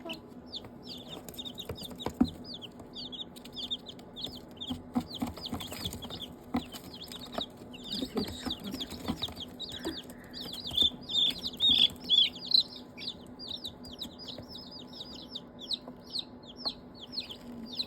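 Newly hatched chicks peep in quick, high, continuous chirps close by, with soft clucking and occasional rustling of the brood underneath and a faint voice now and then.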